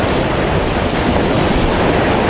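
Winter surf on a concrete-lined shore at Khosta, Sochi, a steady loud wash of breaking water mixed with wind buffeting, with no pause across the short stretch.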